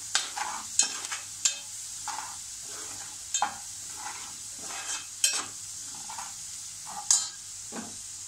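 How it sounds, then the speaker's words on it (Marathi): Malvani masala sautés in a pan, a steady hiss broken by repeated scraping stir strokes every second or so, close and clear with no talking. "थोडं परतूया."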